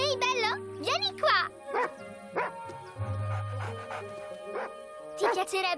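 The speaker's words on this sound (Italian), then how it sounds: "Dov'è il cane?" Barks and yips from a dog in an Italian-dubbed animated children's series come in short bursts between lines of dialogue, with several voices talking over a soft musical bed.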